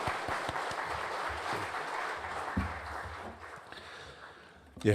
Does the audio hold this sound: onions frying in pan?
no